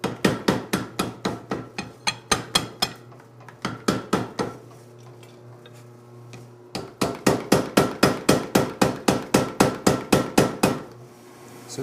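A carbon steel knife core forge-welded with borax, boric acid and iron filings flux, struck in fast, ringing hammer blows in two long runs with a brief pause between, loud and close.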